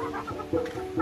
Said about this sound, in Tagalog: Ito yung mga inahin.